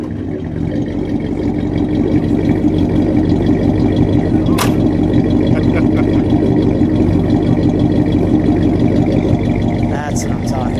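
A 1957 DeSoto Firedome V8 idles and revs, a loud, steady low engine rumble that runs through the clip, with a couple of sharp knocks and people talking nearby.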